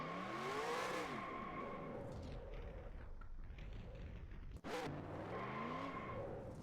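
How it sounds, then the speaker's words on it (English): Truck tires spin and squeal without grip in fourth gear at Rockingham, the engine roaring loud and steady under the wheelspin, dipping briefly before surging again. "I got the tires spinning in fourth gear because there's no grip"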